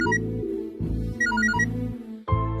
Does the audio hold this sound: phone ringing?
yes